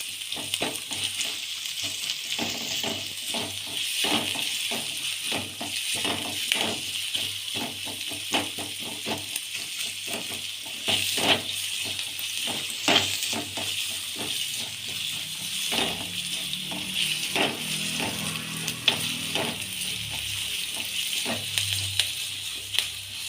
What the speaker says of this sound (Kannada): ಕಟ್ ಮಾಡಿಟ್ಟುಕೊಂಡಿರುವಂತಹ ಈರುಳ್ಳಿ ಮತ್ತು ಈರುಳ್ಳಿ ಸೊಪ್ಪನ್ನು ಹಾಕಿ ಚೆನ್ನಾಗಿ ಫ್ರೈ ಮಾಡ್ಕೋಬೇಕು